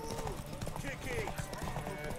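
Hooves clip-clop steadily on a horse in The Witcher 3, a rhythmic, fairly soft patter set under voices and game sound.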